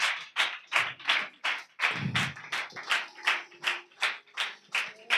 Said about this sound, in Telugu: నిండు మనసుతో గట్టిగా చప్పట్లు కొట్టాల